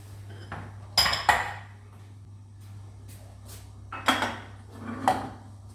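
Eggs, flour and sugar go into a mixer bowl for a sponge-cake base, with sharp metal clinks and knocks against the bowl in a few separate bursts over a low steady hum; close and moderately loud.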